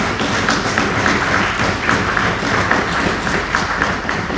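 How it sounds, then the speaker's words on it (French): Audience applauding for the honourable Diabanza at a Congolese gathering, a steady dense patter of many hands clapping that holds evenly from start to finish with no speech over it. "nous allons applaudir pour l'honorable"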